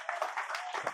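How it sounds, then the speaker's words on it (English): An audience at a motivational talk claps in a short, dense burst of applause, heard close and fairly loud for about a second. "Big round of applause."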